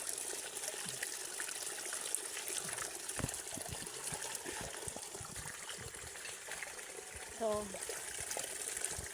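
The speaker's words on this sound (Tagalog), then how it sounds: "Meron ditong tubo, tubig inumin." Drinking water from a pipe on a mountain trail trickles and splashes steadily close by. A voice speaks briefly over the flow.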